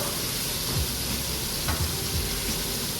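Steak sizzling in a pan, a steady close hiss of frying fat with faint scraping and stirring touches, continuous and without talk.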